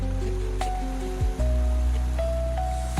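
Water rushes hard at Dodhani waterfall in the monsoon, a steady, close, full roar that continues without a break and carries no speech.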